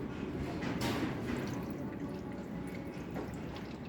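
Water poured onto the windshield of a Volkswagen Passat B5, a steady splashing wash of liquid running continuously at close range with no talk over it.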